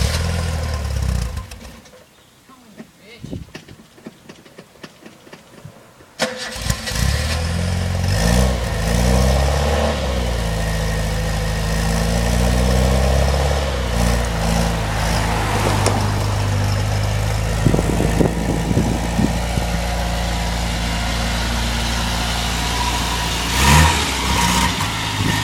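A Sigma engine in a car that cold starts after a brief stall, then settles into a steady, fairly loud idle broken by occasional revs close by, with the exhaust droning throughout.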